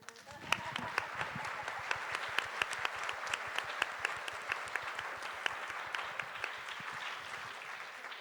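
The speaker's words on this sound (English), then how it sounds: "I wanted, please, to make a big applause" An audience applauding at a film professional day event in Poland, steady dense clapping from a crowd throughout, moderately distant and even in level.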